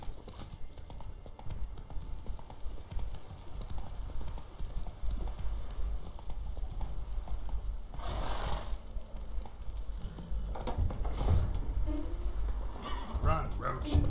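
Roach, Geralt's horse in The Witcher 3: Wild Hunt, gallops with steady, rhythmic hoofbeats throughout, close and fairly loud, joined by a short whinny and game music and effects around it.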